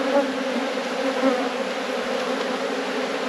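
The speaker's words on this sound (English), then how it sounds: "So, a lot of bees in the air," Many bees buzz in the air around an open beehive, a steady, dense drone that stays close and even throughout with no pauses and no talking.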